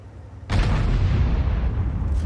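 A heavy artillery blast in a World of Tanks-style tank game, featuring the Spähpanzer Ru 251: a sudden loud boom followed by a long rumbling roar that holds for about two seconds with no speech.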